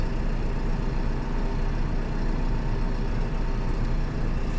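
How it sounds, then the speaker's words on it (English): Deutz Fahr 6135C tractor engine running steadily while driving, a loud, continuous low diesel rumble holding an even level throughout with no talk over it. "I will drive the tractor."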